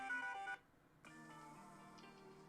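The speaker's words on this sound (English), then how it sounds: "I'm going to play all the alarm sounds." A phone alarm tone plays from a handset muffled under a thumb: a steady sustained tonal melody, cut off by a half-second gap, then a second softer chiming tone pattern that continues to the end.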